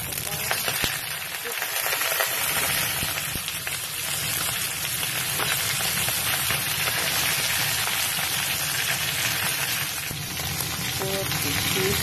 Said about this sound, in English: Heat the oil and put the garlic.